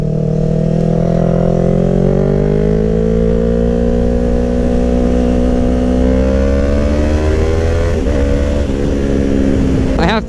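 A Yamaha R3 motorcycle is ridden on the open road, its engine droning loud and close with a gliding pitch as it eases through the revs, wind rush over the top, and a rider talking under it.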